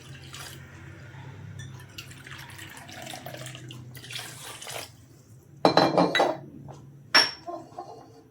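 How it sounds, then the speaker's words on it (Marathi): Water is poured into a cooking pot of mushroom rice with spices. A soft, running pour leads into louder splashing bursts and a sharp metallic clink near the end, with no talk. "आपण याच्यामध्ये 3 वाट्या पाणी टाकणार आहोत."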